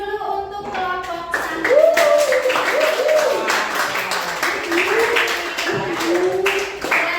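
Classroom applause for a student group, mixed clapping rising quickly and holding steady for several seconds, with children's voices and a teacher's voice over the hands.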